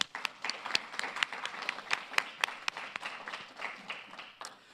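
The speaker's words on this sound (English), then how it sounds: "Please join me in a round of applause for the judges." A small group claps at a graduate college commencement ceremony, the individual hand claps distinct and fairly quiet, a sparse round of applause fading toward the end.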